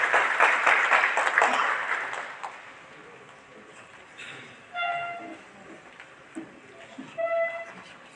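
Audience applause welcoming the chief guest, Lt Governor Manoj Sinha, at the inaugural session of a workshop, a burst of clapping that is strongest at first and then thins out, with scattered tones and knocks after it.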